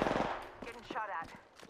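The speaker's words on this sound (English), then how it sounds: "Getting shot at." Rapid bursts of video-game gunfire, several short sharp volleys crackling in quick succession amid other game sounds, fairly quiet overall and over in under two seconds.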